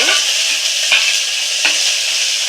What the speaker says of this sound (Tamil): இந்த வெங்காயத்தை இந்த எண்ணெயில் போட்டு நல்லா சவக்கிற வரைக்கும் வறுத்துக்கோங்க.